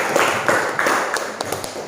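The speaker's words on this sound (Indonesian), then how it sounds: "Kita beri aplaus dulu untuk semua." Students in a classroom give a short round of applause, a few loud, near claps followed by lighter, scattered ones that quickly trail off.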